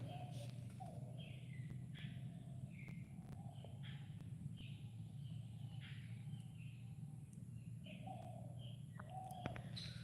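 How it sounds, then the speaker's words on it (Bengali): Several birds chirp and call in short bursts in a sal forest, over a steady low background hum, with occasional faint footstep-like knocks; no talking. "কি সুন্দর সেই পাখির আওয়াজ দেখুন মন একদম শান্ত হয়ে যাচ্ছে"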